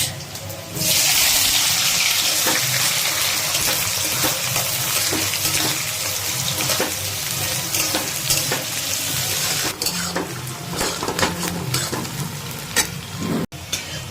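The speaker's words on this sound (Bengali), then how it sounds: "এখানে পেঁয়াজটা তো ভাজা দেখুন চলছে" Sliced onions fry in hot oil with panch phoron spices for a green tomato dish, making a loud, steady sizzle close by that runs throughout, with occasional stirring clinks.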